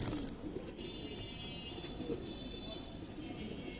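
Giribaz silver pigeons coo softly at close range, low repeated murmuring calls over a quiet background.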